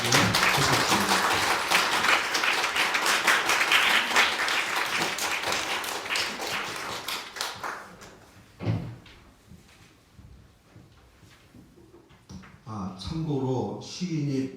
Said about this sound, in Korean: 우리 먼저 박수로 시인을 환영해 주시면 좋겠습니다.